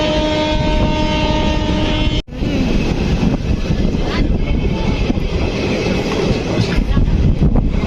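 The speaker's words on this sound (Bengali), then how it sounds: "নবদ্বীপ ধাম এক্সপ্রেস বালুঘাট থেকে আসছে" The Nabadwip Dham Express from Balurghat runs near Malda, heard from on board as a loud, continuous rumble of wheels and carriages with a steady clatter, a brief dip partway through, then the roar resumes.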